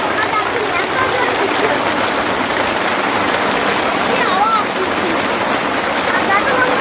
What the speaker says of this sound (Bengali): কত জোরে জোরে বৃষ্টি পড়ছে